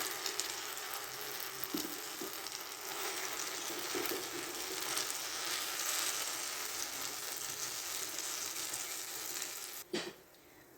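Potato mixture spread in a greased pan fries with a steady, close broad sizzle that holds nearly constant, then drops off sharply near the end.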